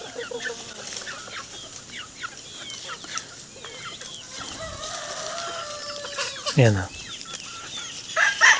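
Native chickens, including a young black cockerel with brown and white markings, clucking repeatedly at close range on a Philippine backyard farm, with a brief sharper squawk near the end and a short spoken word.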